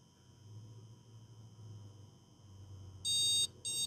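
Two sharp electronic beeps from a computer motherboard's small buzzer, the first longer than the second, ring out over a faint low hum during a test after an LGA socket CPU pin repair.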